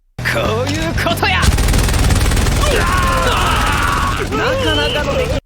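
Gunfire from an anime gun loaded with magic crystals and lead balls: rapid mechanical clattering shots mixed with a loud, dense soundtrack of effects and music that runs throughout.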